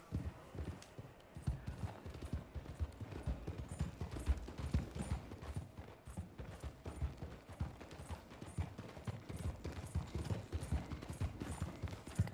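Horse hooves clip-clop steadily while riding in the video game Red Dead Redemption 2, a continuous close rhythm of hoof strikes over a low ambient bed, with no talking.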